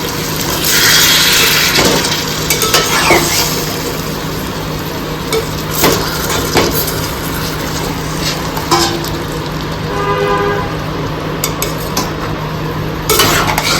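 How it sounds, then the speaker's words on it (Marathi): Gentle stirring of fresh bombil (Bombay duck) fish masala in a pan, with a steady light clatter of a utensil against the metal and a soft background hiss, interrupted by a few sharper taps. "आता हे हलक्या हाताने आपल्याला अगदी मिक्स करायचं आहे"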